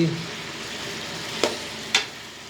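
Chicken karahi fries in a pan with a steady low sizzle while being stirred, with two brief scraping stirs standing out, close and without talk.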